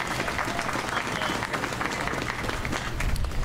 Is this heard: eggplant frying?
no